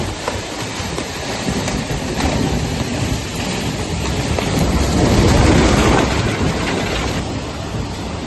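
Strong winds and rough seas roar in extreme stormy weather, a loud, dense, continuous rumble that swells and gusts throughout, with no voices.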